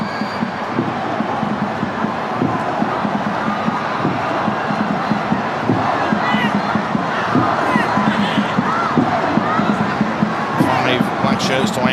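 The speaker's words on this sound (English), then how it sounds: "Korean fans over on that far side, all on their feet here, cheering on." Football crowd at a South Korea vs Singapore World Cup qualifier, a dense, continuous stadium roar of fans cheering and booing, loud and sustained with a commentator talking over it.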